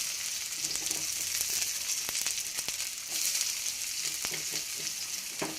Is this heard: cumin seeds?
yes